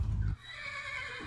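A horse in the Minecraft video game gives a short neigh, loud for a moment at the start and then fading into quiet game ambience.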